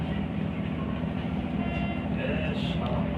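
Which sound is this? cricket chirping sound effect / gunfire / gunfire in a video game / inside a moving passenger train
inside a moving passenger train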